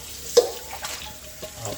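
Tap water runs into a kitchen sink while dishes are rinsed, a steady close splashing wash with a few sharper clinks and drips over it.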